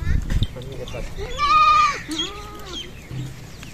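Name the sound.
Beetle goats and kids bleating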